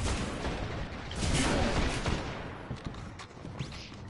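A Hunter's Shadow Shot bow special in a video game lets loose a dense, noisy whooshing burst that swells and fades within a few seconds, with a couple of faint thuds toward the end.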